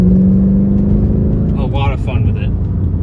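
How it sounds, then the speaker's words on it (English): A Mercedes C55 AMG's M113 V8 engine drones steadily at low pitch beneath someone talking over it, holding a constant, fairly loud rumble throughout. "The sound this M113 V8 makes it's very unique, and it's like no other."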